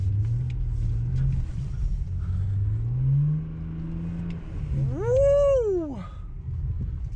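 A BMW 335i pulling away on a snowy road: a low engine rumble rises and falls in pitch as it accelerates, and a brief tonal whine arcs up and down near the end. No voices are heard.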